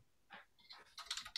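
Quick tapping on a computer keyboard while naming something during a Python dependency setup: a short irregular burst of close, crisp key clicks that speeds up toward the end, with no voice.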